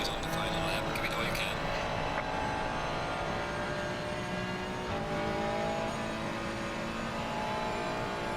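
Ferrari and Porsche race cars lap the Nordschleife at an amateur track event, a steady engine roar held at a distance, with a voice commenting over it throughout.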